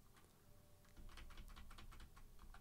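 Computer keyboard arrow keys tapped repeatedly while nudging an element in After Effects, a quick run of light, close plastic clicks, uneven in rhythm, with no speech.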